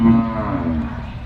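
A single cow moos loudly and close by, one sustained low call lasting over a second with no other sounds around it.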